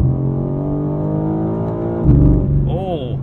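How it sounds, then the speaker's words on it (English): A 2022 BMW M4 Competition xDrive engine drones steadily and loud from inside the cabin in manual mode, then surges with a quick upshift and the revs climbing again. "Shifts are real quick."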